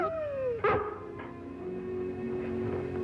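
A collie whines in a high, falling tone, then lets out a longer, steady howl that holds on for a couple of seconds, close and fairly clear with no talking.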